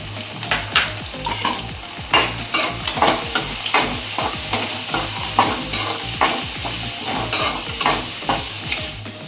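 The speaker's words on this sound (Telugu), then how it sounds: "ఇవి ఎర్రగడ్డలు తొందరగా వేగుతాయి" Onions fry with turmeric and salt in a pan while being stirred, a steady close sizzle broken by frequent scraping strokes of a utensil throughout.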